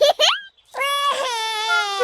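Cartoon piglet George from Peppa Pig bursts into loud childlike crying, two short sobs then a long, wavering wail that carries on unbroken.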